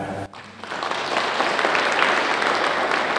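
A congregation in a Catholic church in Hévíz applauds the choir after the Mass, clapping swelling from a brief lull into a dense, sustained wash of applause.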